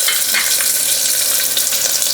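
Onion frying with cinnamon, cloves, cardamom and bay leaf in a pan for spicy chicken soup gives a steady, loud, close sizzle with a few soft stirring scrapes, no voices.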